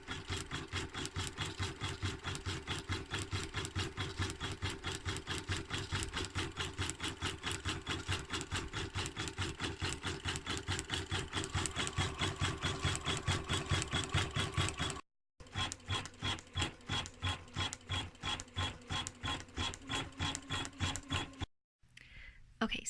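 A Janome Memorycraft 11000 embroidery machine stitches a faux-fur/sherpa blanket with a fast, steady, even mechanical chatter that runs for over twenty seconds. It pauses briefly twice and then resumes. The sound is close but quiet, with no voices.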